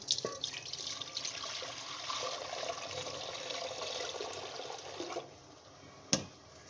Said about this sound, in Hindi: ये मकरोनी के लिए पानी ले लिया मैंने।